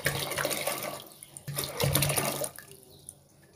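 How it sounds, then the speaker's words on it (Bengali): Water is poured from a vessel into a cooking pot of washed chickpeas, giving close splashing and gurgling pours in a few bursts that trail off into quiet. "আরও পানি দিব,"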